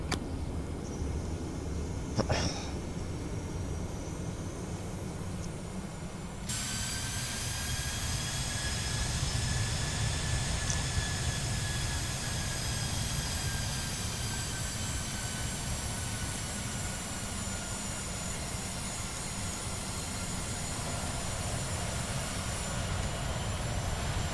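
An airplane engine in a flight simulator game drones steadily and evenly throughout, with a brief click near the start and no talk.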